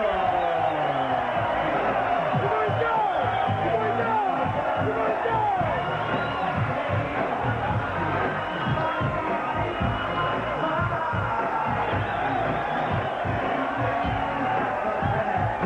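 Boxing arena crowd roaring continuously for Pernell Whitaker's entrance, a dense, loud wall of cheering and whoops under a commentator's voice.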